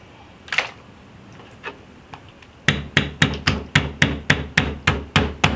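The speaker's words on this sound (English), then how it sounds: "I will use my pastry roll, okay, to beat the octopus just before cooking" A wooden pastry roll pounds a raw octopus on a hard surface, a few faint taps followed by a steady series of about a dozen heavy, evenly spaced thuds close by.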